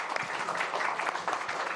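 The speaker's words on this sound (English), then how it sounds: "a round of applause for our presenters" Applause for presenters at a Polish and Ukrainian science conference, a brisk, steady clapping from a seated audience filling the room.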